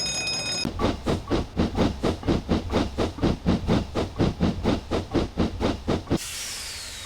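A steam tank engine in the Railworks train simulator chuffs loudly in a rapid, even rhythm of about twenty-five exhaust beats as it pulls away. A short whistle sounds before the beats, and a soft hiss of steam follows them.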